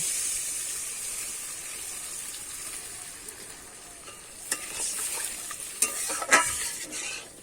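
Water is poured into a pan of sizzling spice masala for a banana flower and egg curry, producing a steady frying hiss that grows into louder bursts of sizzle with stirring clatter.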